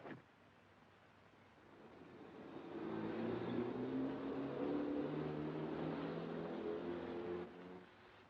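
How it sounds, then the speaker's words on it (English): A 1940-era car approaches on a road, a low engine rumble swelling from quiet to a steady drone over several seconds before easing off at the end. "It's a car coming."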